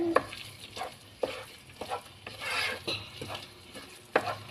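Onions and chicken sauté in a pan for a hotel-style chicken curry, with a soft sizzle broken by irregular scraping stirs and light utensil knocks, fairly quiet, with no talk.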